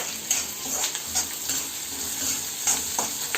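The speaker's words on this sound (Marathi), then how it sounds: "कांदा खोबरं लसूण आलं सगळं आता भाजून घेऊया" Onion, coconut, garlic and ginger roasting in oil for a village-style masvadi curry: a constant bright sizzle with intermittent spatula scrapes and stirring taps, close and steady throughout.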